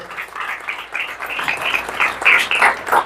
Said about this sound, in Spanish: Déselo al Señor ese aplauso, por favor.